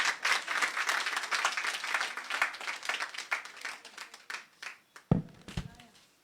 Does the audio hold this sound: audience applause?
yes